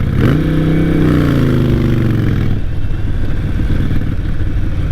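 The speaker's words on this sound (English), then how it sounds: "My Yamaha is like so quiet, you can barely hear it." Yamaha motorcycle engine while riding, a loud close rumble that revs upward then drops back to a lower steady drone, with wind noise throughout.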